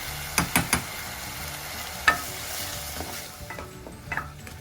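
Small boneless chicken pieces cooking in a pan, a steady low sizzle broken by several scattered clinks and scrapes of stirring.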